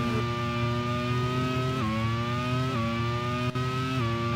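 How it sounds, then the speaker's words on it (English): A Ford racing engine screams at full revs on board a car at the 1991 Hungarian Grand Prix, a loud, close, high-pitched wail that rises steadily and drops sharply at each of several gear changes. "Great to hear the Ford engine in full swing."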